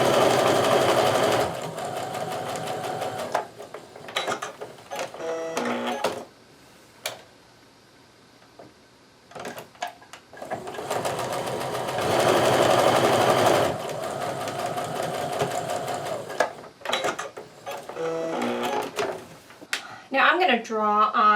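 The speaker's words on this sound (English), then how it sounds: "we're going to sew a scant 1/4 inch seam down either side of this drawn line" Domestic sewing machine stitching a scant quarter-inch quilt seam beside a drawn line on a patriotic Quilt of Valor block, running in several loud whirring bursts separated by quiet pauses and small clicks.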